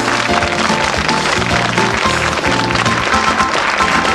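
A television studio audience at a 1997 Icelandic Saturday-night show gives a singer a hearty round of applause, steady and loud, with music playing underneath the clapping.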